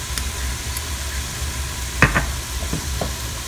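Ground turkey, garlic and cactus chili ingredients are stirred around in a hot pan, with a steady low sizzle and a few short scraping knocks of the spoon near the middle.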